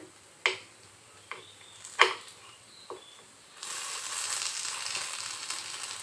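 Sabudana vada frying in oil in an appam pan. A few sharp clicks and taps come first, then a loud, steady close sizzle takes over and holds to the end.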